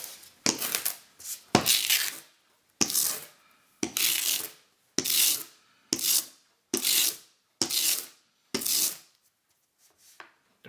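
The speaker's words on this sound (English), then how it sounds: "I'm going to grab my trusty sticky roller, bring up my drawing." A sticky lint roller rubs over a paper drawing in a series of about nine separate rolling passes, each a short, close, rasping sweep with brief pauses between, with no talking.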